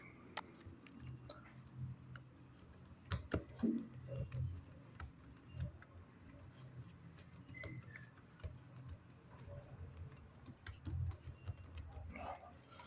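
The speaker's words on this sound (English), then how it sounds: "When you implement on your data, I will type here." Keyboard typing at a computer while fonts are being demonstrated: scattered, irregular clicks of varying loudness, close and fairly quiet, with short bursts and pauses over a low background hum and no speech.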